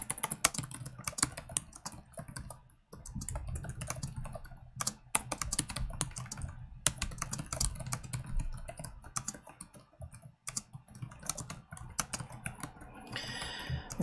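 Rapid, irregular clicking of keys on a computer keyboard, close and fairly quiet, with brief pauses between bursts of typing and no talking.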